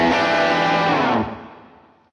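Electric guitar played through a Fractal Audio Axe-FX with slap delay and reverb, a cranked, slightly distorted amp tone holding a dense chord that rings loudly for about a second, then decays into a fading reverb tail.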